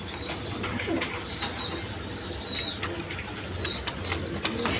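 Pigeons coo softly and repeatedly close by, with low, rolling calls over a busy background of rustling and faint shuffling.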